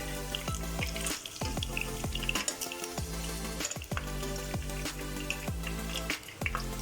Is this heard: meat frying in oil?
yes